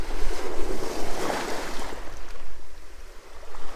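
Sea waves wash onto the Irish Sea shore at St Bees in a steady broadband rush, with gusty wind buffeting the microphone throughout and no voices.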